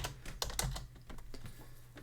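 A computer keyboard is typed on close by, with a quick burst of crisp, uneven key clicks and taps, fairly quiet, with no talking.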